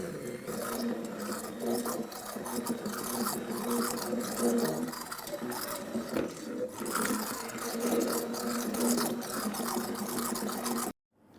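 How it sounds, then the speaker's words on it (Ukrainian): Immersion blender whirs through a sorbet base of dry mix and warm water, a continuous buzzing drone with small shifts in pitch as it mixes, then cuts off abruptly near the end. "за допомогою блендера"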